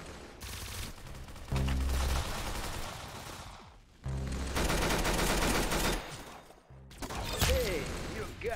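Gunfire bursts from a Roblox Arsenal match, rapid loud volleys in three separate stretches with clicking weapon mechanisms in between.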